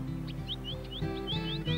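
A finch calls after rain with a series of short, rising chirps repeated at a steady pace over a low background murmur, fairly clear and moderately close.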